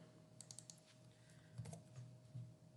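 A computer keyboard is typed on, a brief quiet run of light key clicks followed by a few softer taps, with a faint steady hum underneath.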